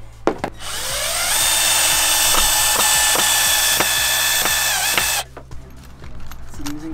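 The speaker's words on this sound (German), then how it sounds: "jetzt müssen wir das hier zusägen" Power saw cutting wood to size for a fold-out bed in a van conversion, a loud screaming whine that spins up, runs steadily for about four seconds and cuts off, with clatter and knocks around it.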